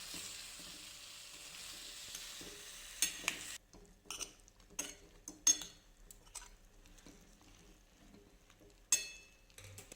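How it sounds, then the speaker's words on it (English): Lauki masala being stirred in a kadhai, a soft sizzle of frying under a series of metallic clinks and scrapes from a spoon against the pan, irregular and close. "Now mix it slowly and add water if needed so that the masala coats the lauki properly."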